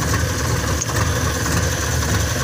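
A Cat D3G bulldozer with a fault that stops it driving forward or back and a lit parking brake indicator, its engine running steadily at a low rumbling idle while it attempts to reverse, continuous and close with no talk.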